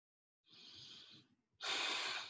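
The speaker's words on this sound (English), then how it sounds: "And we return to our breath." Two slow, deep breaths taken alone in a quiet setting during a guided meditation, a soft airy inhale followed by a fuller, louder exhale, close and unhurried.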